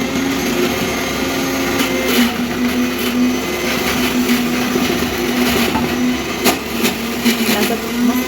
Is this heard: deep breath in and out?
no